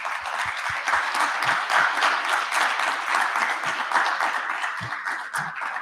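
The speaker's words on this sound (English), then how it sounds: "Please give everyone a round of applause." An audience at a hackathon applauds the presenters, with dense, steady clapping held at an even level throughout and a few sharper, louder claps standing out near the front.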